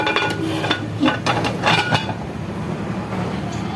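A lid set onto a cooking pot while cassava suman cooks: a couple of light metallic clanks and a brief rattle close by, fairly loud against steady background hiss, no talking.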